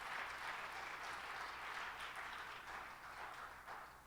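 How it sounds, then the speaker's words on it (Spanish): A church congregation applauds during a Spanish-language service, a continuous, even round of clapping from many hands that fades slightly toward the end, quiet overall. "Los aplausos sean para el Señor Jesucristo."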